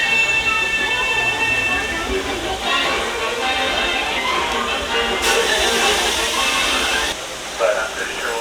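Disneyland Railroad train pulling out of Toontown Depot in Mickey's Toontown, a steady rumbling rattle of wheels and cars with faint metallic squeals, under a voice speaking over it.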